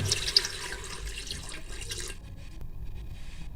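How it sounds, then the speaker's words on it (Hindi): Water pours into a pressure cooker holding about half a kilo of beef for a spinach-and-meat curry, a steady splashing rush for about two seconds that then stops, leaving quiet kitchen room sound. "पानी शामिल कर देंगे।"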